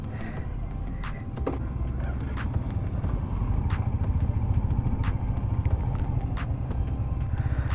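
A motorcycle cruising on a highway gives a continuous low engine drone and rushing wind noise that builds slightly and holds steady, with faint ticking sounds on top.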